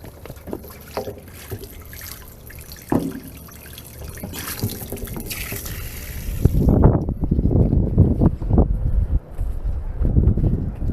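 Water thrown onto a roof gutter with almost no fall runs into the gutter riser: scattered drips and trickles at first, then a louder, continuous gurgling flow as water builds up and drains, heard close and without talk.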